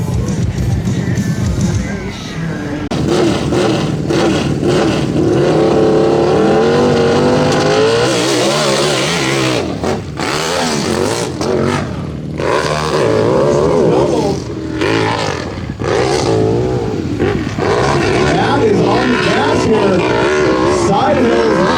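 A motorcycle roaring at full throttle up a steep dirt hill at a hill climb race, the engine loud and wavering in pitch as it revs, with a commentator talking over it throughout.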